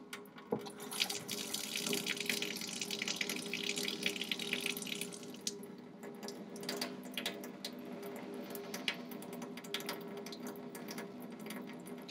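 Lukewarm tap water runs steadily into a lab sink during a microbiology staining procedure, a continuous close hiss that eases somewhat midway and then carries on with faint drips and clatter.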